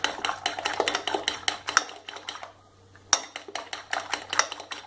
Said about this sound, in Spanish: Hemos puesto los 3 huevos, los batimos bien.